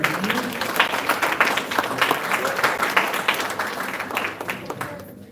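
An audience applauds guidance counselors at an honoring event, a dense, steady round of clapping that carries on for several seconds before tapering off at the end.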